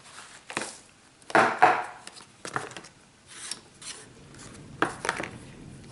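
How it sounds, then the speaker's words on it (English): Oil-bonded casting sand such as Petrobond or Delft sand being pushed through an old tea strainer, giving intermittent close gritty rasping and scraping strokes of varying loudness with quiet pauses between. "I take the casting sand and push it through the tea strainer"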